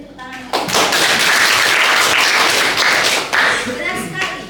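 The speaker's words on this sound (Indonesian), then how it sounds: "Oke, beri tepuk tangan" Students in a classroom clap together in a loud, close burst of applause lasting a few seconds, briefly dipping and then picking up again before trailing off, with a voice heard at the start.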